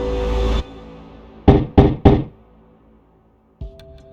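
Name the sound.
knocking on a padlocked door in AI: The Somnium Files video game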